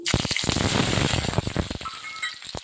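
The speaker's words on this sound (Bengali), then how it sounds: "কালো জিরেটা যখন সুন্দর ভাজা হয়ে গেছে তখন দিচ্ছি কাঁচা টমাটো যেটা কেটে রেখেছি" Chopped unripe green tomatoes drop into hot oil with fried nigella seeds, setting off a loud, close burst of sizzling that crackles steadily and then thins out toward the end.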